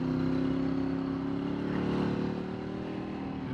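A Ducati 848 motorcycle engine running at a steady, fairly low idle, a droning hum with a slight swell near the middle, heard close and alone.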